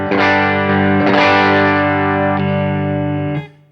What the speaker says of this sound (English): here's your King of Tone. It's my favorite first gain kind of drive. It sounds really great on the bridge.